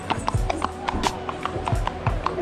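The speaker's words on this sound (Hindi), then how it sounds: "घोड़े से कुचले जाने से बचा" Horse hooves clip-clop on the paved Shimla Mall Road, a close, steady rhythm of sharp hoof strikes that continues throughout, with faint crowd murmur in the background.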